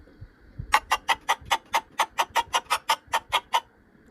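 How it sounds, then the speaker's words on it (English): A chicken clucks in a quick, even series of about fifteen sharp, close calls, loud and clear over a quiet background. "You can search for chicken."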